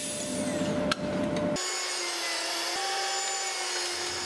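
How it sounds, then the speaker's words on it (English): A chisel squares a wooden corner with a steady, close scraping rub lasting about a second and a half and broken by one sharp tap, then gives way to a low workshop hum. "Although not necessary, but I'm chiseling the corner square."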